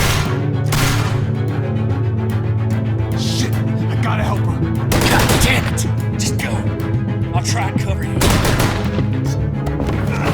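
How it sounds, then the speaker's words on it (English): Repeated gunshot bursts and booming fire in The Walking Dead: A New Frontier video game, loud and dense over a steady rumbling bed, with voices talking throughout. "I hear gunfire"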